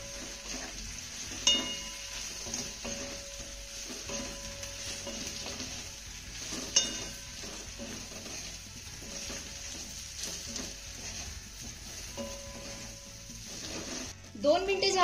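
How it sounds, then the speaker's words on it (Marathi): Drumstick leaf vadis stir-fried in ghee in a pan, with a steady soft sizzle running throughout and occasional scraping stir sounds, while someone talks over the cooking. "त्यानंतर ह्या वड्या आपल्याला 2 मिनिटं तुपामध्ये छान अशा परतून घ्यायच्या."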